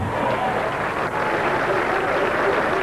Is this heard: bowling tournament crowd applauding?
yes